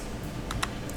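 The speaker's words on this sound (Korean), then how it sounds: "이때 키보드의 델 키를 눌러보세요." A few sharp key clicks on a computer keyboard, including the Delete key, close and distinct over a steady background hum.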